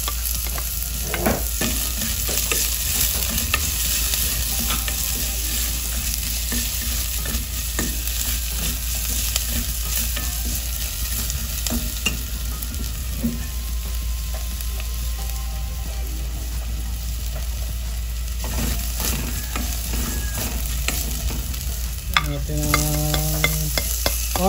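Garlic fries in a pan for a saucy mussels dish, a steady crackling sizzle interrupted by frequent scraping stirs, close and continuous, with a low hum and a faint high whine in the background.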